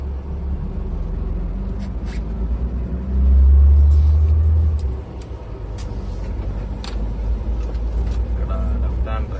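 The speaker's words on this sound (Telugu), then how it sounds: "బస్సు ఇప్పుడే స్టార్ట్ అయింది." A bus engine on a snowy road between Budapest and Kecskemét rumbles loudly just after starting, swelling in a deep surge before settling into a steady idle, while people talk nearby.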